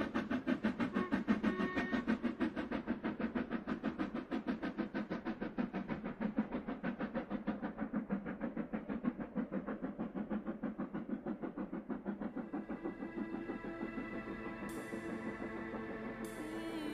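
A steam train runs steadily across a railway bridge in Scotland, a continuous rhythmic chuffing and rumble that holds close and loud throughout, with a hiss rising near the end.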